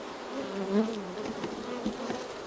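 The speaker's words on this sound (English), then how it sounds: "The bees are being very respectful." Honey bees hum around a hive full of honey in a steady, close drone, the buzzing rising and wavering as they fly around.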